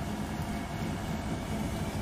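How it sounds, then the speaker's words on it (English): An old-fashioned steam train in Transport Fever 2 leaves a loco shed at Temple Meads in Bristol, making a steady low rumble and chugging at moderate volume with no voices over it. "Oh, and a proper old-fashioned steam train."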